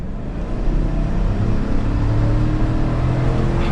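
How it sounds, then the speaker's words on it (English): A 2022 Chevrolet Tahoe Z71 under light throttle gives a smooth, rising engine drone and low rumble heard from inside the cabin, steady and moderately loud with no talking. "We'll give it a little bit of gas here."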